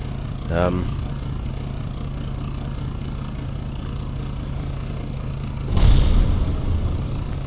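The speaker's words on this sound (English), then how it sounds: "accidentally plummeting the aircraft into a nosedive" An aircraft nosedives and crashes in Kerbal Space Program: a brief fluttering whine near the start, then a loud booming impact later that trails off into rumble over a constant background hum.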